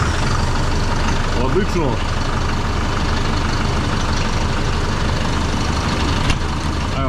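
Changfa 1204-B tractor diesel engine idling after starting, a steady, throbbing low rumble running throughout close by, with someone speaking briefly over it.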